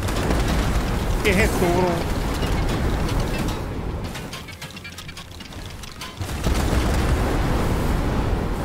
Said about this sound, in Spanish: Ah, qué buenas explosiones